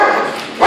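A shy, frightened rescue dog wearing a bark collar lets out a single loud bark at close range, with a steady indoor background before it.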